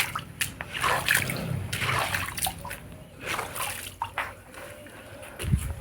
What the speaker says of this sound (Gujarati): ધીમે ધીમે પાણી જાય છે.